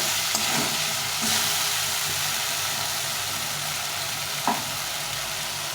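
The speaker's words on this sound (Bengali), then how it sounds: "ভালো করে কষিয়ে নিতে হবে অনেকক্ষণ ধরে হয়ে গেছে তেল ছেড়ে দিয়েছে" Spice masala sautéing in oil in a pan for a Bengali vegetable dish, a steady close sizzle with a few sharp clicks of stirring, no voices.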